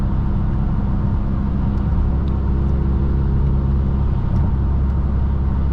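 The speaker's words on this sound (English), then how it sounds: "I'm confident driving 55, 60 miles an hour on this slightly snow-covered road" A VW Golf MK8 GTI cruising at about 55 to 60 mph on a slightly snow-covered road: a loud, steady cabin rumble of engine and tire noise that holds constant throughout.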